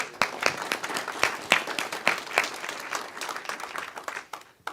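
Applause from a gathering of about fifty people at a memorial celebration, sharp individual claps at first building into a loose, moderate round that thins out toward the end.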